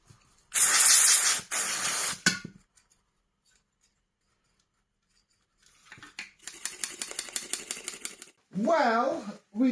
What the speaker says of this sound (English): I'm just going to clean up this PCB with a contact cleaner and a little brush.